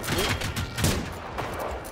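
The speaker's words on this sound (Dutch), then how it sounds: "Waarom schot hij gelijk op mij?" Hostile gunfire in Generation Zero comes as a quick cluster of sharp shots over about two seconds, set against a busy game background.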